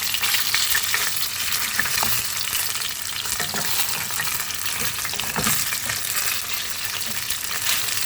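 Marinated meat frying in a pan before garlic and onion go in, a loud continuous crackling sizzle with a few stirring scrapes, close and steady throughout.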